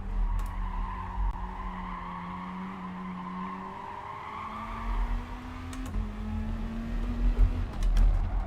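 Race car sliding with tyres squealing in Gran Turismo Sport, a steady engine drone under a long, wavering skid that shifts pitch as the car slips through a corner.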